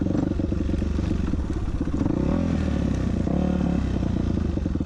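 A 2000 Yamaha YZ426F four-stroke dirt bike engine thumps loud and close as the bike climbs. The throttle pulls harder and the pitch rises midway, with some clatter from the bike over rough ground.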